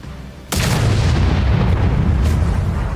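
A tank cannon fires in a tank battle video game on the Erlenberg map: one sudden, heavy boom breaks a quiet rumble, then a loud, rolling blast decays slowly across the remaining seconds.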